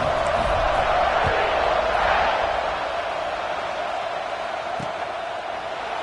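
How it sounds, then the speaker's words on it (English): Stadium crowd in a college football video game featuring Ole Miss, a steady loud buzzing roar that fills the whole stretch and eases slightly toward the end, with a faint voice over it. "this crowd is buzzing after that last score"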